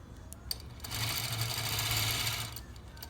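A1 Elite Platinum longarm quilting machine stitching in a steady rapid hum that starts partway in and runs for about two seconds before stopping.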